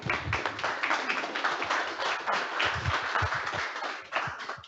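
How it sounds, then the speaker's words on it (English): Warm round of applause from a business-talk audience welcoming a UPS executive onto the stage, a steady patter of many hands clapping at moderate loudness without a break. "Please welcome, with a warm round of applause,"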